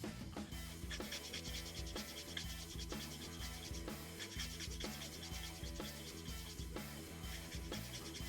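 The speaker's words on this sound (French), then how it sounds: "ce que je vais faire, c'est que je ponce à, on va dire 30 degrés" Sanding the damaged blade of a sculpted sword at roughly a 30-degree angle makes quiet, rhythmic back-and-forth scratching strokes, a soft rasp repeating about once a second, close and faint, with no voice.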